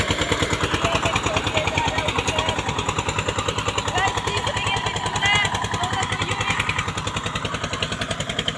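An Eicher 241 tractor's diesel engine runs steadily in third gear, a close, loud, continuous pulsing chug with a fast even rhythm and no pauses for the whole stretch.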